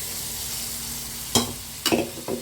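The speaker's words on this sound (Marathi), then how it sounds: "लसण पण छान फ्राय झालाय, कारण हे थोडं थोडं घालून घेते, कारण हे खूप उडत आहे ताईंनो." Garlic frying in a pan hisses steadily, then spits in three sharp splutters or stirring knocks near the end, close and fairly quiet with no voices.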